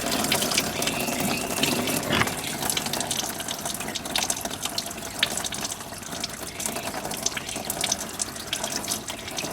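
Coolant drains from an FG Ford Falcon radiator into a bucket as a continuous loud gush, splashing against the back of the bucket throughout with no break.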